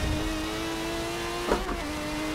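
A wrecked Aston Martin Vantage in Forza Motorsport 7 holds a steady engine drone with a brief throttle blip midway, a close, continuous tone with no talk.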